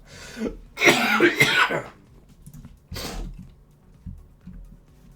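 Two bursts of harsh coughing from a nearby person during a card game, a long cluster up front and a shorter one after a pause, with faint room noise in between.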